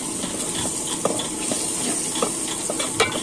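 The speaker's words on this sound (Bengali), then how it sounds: "এই তো যখন ভাজা ভাজা হয়ে যাচ্ছে আমি নেড়ে চেড়ে দিচ্ছি যেন খুব সুন্দরভাবে ভাজাগুলো হয়ে যায়।" Rice grains mixed with spices sizzle and fry in a pan while being stirred, with steady hissing and occasional scraping clicks of the spoon, close and moderately loud, no talking.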